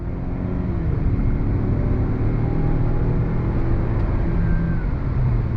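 2022 Mazda CX-9 midsize SUV with a 6-speed automatic accelerating onto the highway, a steady, full engine and road rumble from inside the cabin, holding constant with no pauses.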